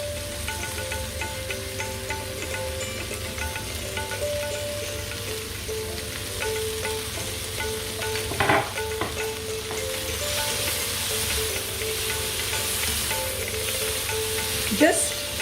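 Coriander and mint leaves stirred into hot stir-fried tomatoes and onion with the hob just switched off, giving a steady soft sizzle with a few scraping stirs across it, close by.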